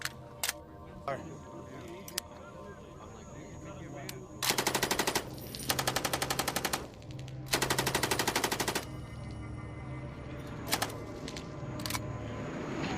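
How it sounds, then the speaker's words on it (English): Gunfire at an outdoor shooting range: a few scattered single shots, then three long rapid-fire bursts of sharp cracks, loud and close over a steady background hum. "You completely shot over the fucking plywood, Cross."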